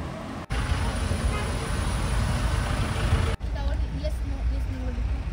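Road traffic crawling through a jam in Darjeeling, with a steady rumble of car, bus and truck engines close by, broken by two brief dropouts, while people talk over it.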